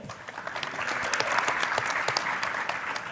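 Conference audience at a speed debate session claps for the debate winners, a dense patter of hands building gently and holding steady, moderately distant in a large room.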